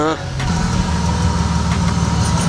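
A BMW E46 engine with a blown head gasket drones steadily while driving, with a low rumbling induction growl throughout and a brief dip at the start.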